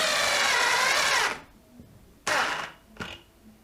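DeWalt DCD701 12V brushless cordless drill boring a 32mm hole into wood, a loud steady whir for over a second that cuts off as it stalls, then two shorter bursts of whirring, close by.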